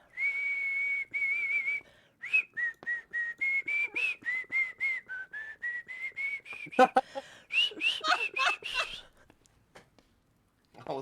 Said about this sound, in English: You hear a whistling coming towards the party.